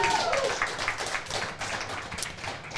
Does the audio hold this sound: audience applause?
yes